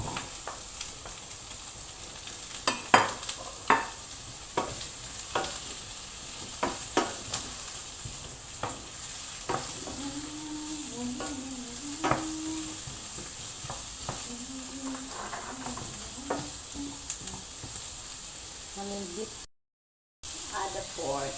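Carrot pieces frying in a pan for pork kaldereta give a soft, continuous sizzle with scraping stirs and occasional clatter, while a voice speaks intermittently over the cooking.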